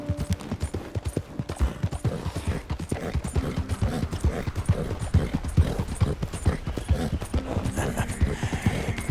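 Steady clip-clop of horse hooves at a trot in Red Dead Redemption 2, close and rhythmic throughout, with a faint snort or whinny and light background ambience.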